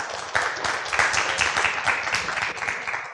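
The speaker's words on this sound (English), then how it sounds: "let's have a huge round of applause for the speaker again." A lecture audience breaks into applause for the speaker, steady dense clapping from many hands filling the room without a break, close and fairly loud throughout.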